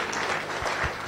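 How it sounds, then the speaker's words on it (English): A room of members at a Las Vegas Rotary Club weekly meeting gives a brief burst of dense applause for the club's major donors. "if I get a round of applause for all of our major donors"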